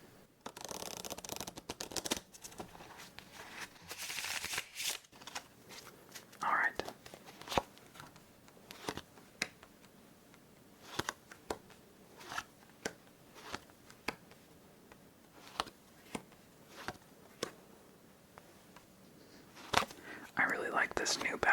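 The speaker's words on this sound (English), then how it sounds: "This will be the last shuffle." Playing cards are shuffled for a solitaire game of Klondike in a quiet ASMR setting: a riffle at the start, then a long run of soft, evenly spaced card snaps, with whispered talk throughout.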